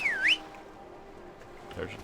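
A short rising-and-falling whistle calls a horse in Skyrim, one bright swooping tone at the start, followed by quiet ambience and a faint low sound near the end.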